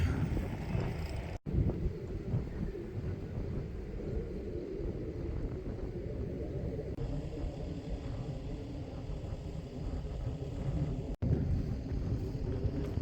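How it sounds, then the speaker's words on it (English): Wind buffets the microphone outdoors on nature trails at Cave of the Mounds in Wisconsin's Driftless Area, a constant low roar and rumble for the whole stretch, with two brief clicks and no talking. "Windy out here in the driftless country"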